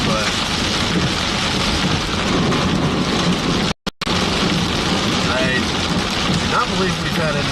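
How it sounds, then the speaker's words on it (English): Heavy rain pours down during a severe thunderstorm with hail, wind and lightning over the Dallas–Fort Worth area, a loud constant roar of rainfall with a brief dropout midway. "It's been hail, wind, flooding, tons of lightning"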